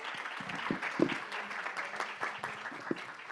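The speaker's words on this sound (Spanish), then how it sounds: "Un fuerte aplauso para Catalina, Lorena Angelini y Mónica." Applause from the audience at a conference session on child protection in migration, a moderately loud spread of clapping with a few sharp individual claps standing out, continuing steadily.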